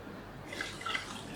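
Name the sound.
pouring chicken stock into a saucepan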